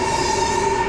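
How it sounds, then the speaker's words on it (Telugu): Chinese high-speed train pulling out of Nanjing South station, a loud steady electric whine with tonal hum, close and continuous. "మనం వచ్చిన ట్రైన్ వెళ్ళిపోతుంది"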